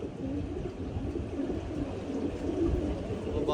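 Pigeons coo steadily in a low, murmuring throb just after landing, the soft rolling calls running continuously and fairly close for the whole stretch, with no talk over them.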